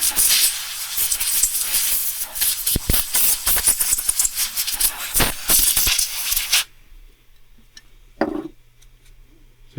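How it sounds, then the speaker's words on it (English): Compressed air blasts in loud, sputtering bursts over PS1 controller parts for several seconds, then cuts off, leaving quiet handling and a brief final spurt. "you don't have to use compressed air. But it makes it a bit quicker."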